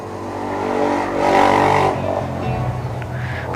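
A motorbike engine revs up and settles back down, fairly loud and continuous, with the pitch rising toward the middle and then easing off over a steady rumble.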